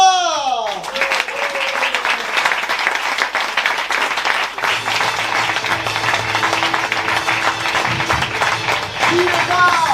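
A large audience applauds loudly and steadily throughout, with some cheering and voices mixed into the dense clapping.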